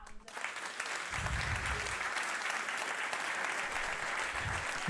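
Audience applause welcoming a speaker at a lecture, a sustained dense roar of clapping that starts abruptly and holds steady for several seconds, fairly loud and full.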